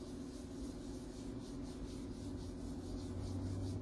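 Blending brush rubbing Crumb Cake brown ink lightly through a stencil, a steady soft scrubbing rasp that runs continuously and close for the whole stretch, with no talking.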